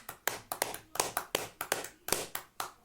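A church congregation claps to welcome a pastor at a worship service, a sparse, uneven patter of hand claps with about a dozen distinct sharp claps over a few seconds, fairly quiet and with no one speaking.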